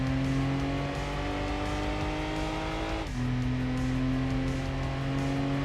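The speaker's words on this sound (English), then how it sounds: "Only I could be so talented to not only crash a low-power car, but also spin it." A low-power car in the Gran Turismo 2 video game drones at steady engine revs, then crashes and spins out; the engine note dips abruptly partway through before settling back to an even hum, loud and continuous with no talking.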